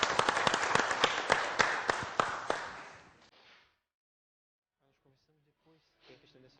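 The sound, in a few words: audience applause for gospel singer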